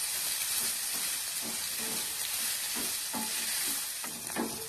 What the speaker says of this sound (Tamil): வெங்காயத்துக்கு அளவா உப்பு போட்டுக்கோங்க. நம்ம மாவுல ஆல்ரெடி உப்பு போட்டுட்டோம். நல்லா வதக்கி விட்டுறலாம்.